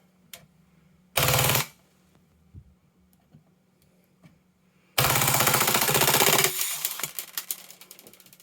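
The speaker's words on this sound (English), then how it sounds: "Full auto rate of fire, about 19 rounds a second." Action Army AAP01 airsoft gas pistol firing full auto in two sharp rapid bursts, a short one and then a longer one that empties the magazine, loud and close with quiet clicks between.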